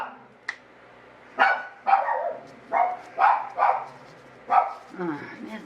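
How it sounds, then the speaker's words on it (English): A dog barks nearby in a series of about seven sharp, separate woofs at uneven intervals, loud against a quiet room, with a brief whine near the end. "Oh, now the dog's barking."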